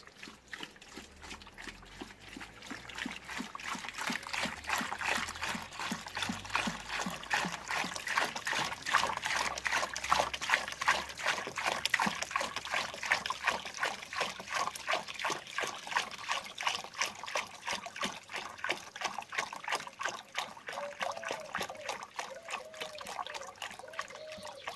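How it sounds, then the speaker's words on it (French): Water pouring into a large bottle or 10-litre container, a fast steady glugging trickle with regular pulses, moderately close, continuing alone throughout. "remplir une grande bouteille ou un bidon de 10 litres comme ça"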